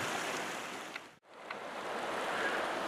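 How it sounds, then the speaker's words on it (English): A creek rushes in a steady, broad hiss of flowing water, close and constant throughout, with a brief dip in the middle. "We're walking along the creek"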